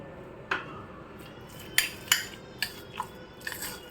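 A spoon stirs oregano into a vegetable mixture in a bowl, giving several sharp clinks and scrapes against the bowl at uneven intervals, close and moderately loud.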